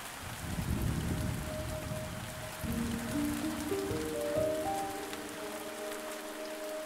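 Rain and storm ambience from the video game The Spirit and the Mouse, set on a cold, rainy night in a French village: a steady patter of rainfall with low rumbles, joined midway by rising, sustained musical tones.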